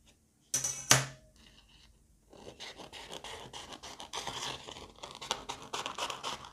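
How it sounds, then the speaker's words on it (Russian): Wafer paper being cut into strips for cake decoration flowers, a crisp snip and crinkle near the start followed by a steady run of soft, close scratchy cuts and rustles with no talk. "Нарезаю полосочки."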